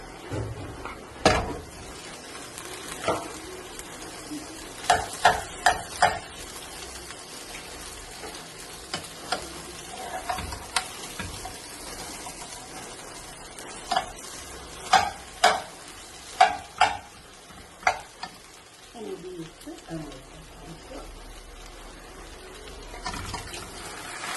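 Tapioca is stirred into biryani in a pan, a soft background sizzle punctuated by repeated sharp scraping and clacking strokes of a spoon against the pan, coming in irregular bursts.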